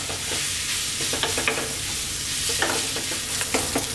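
Bacon sizzles steadily in a pan over medium heat while being stirred almost constantly, a close, continuous fry with scraping strokes of the spoon.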